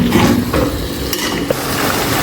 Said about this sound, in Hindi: ये डाल देंगे, मिक्स कर लेंगे और सॉफ्ट होने तक पकाएंगे इसे।